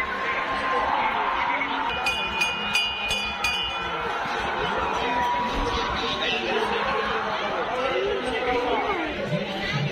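A steady murmur of many people talking and laughing at a crowded Mahashivratri fair, with faint clinks and high tones briefly cutting through the hubbub.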